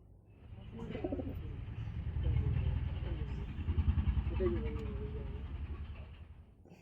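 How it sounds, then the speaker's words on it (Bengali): Madras pigeons cooing in a loft, a series of low throaty coos rising and falling close by, with traffic noise and people talking in the background. "এরপরে আরও কিছু ম্যাড্রাস পায়রা দেখাবো"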